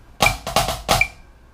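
A short drum pattern with flammed, doubled strokes and strong accented hits among softer ones, played alone and ringing briefly.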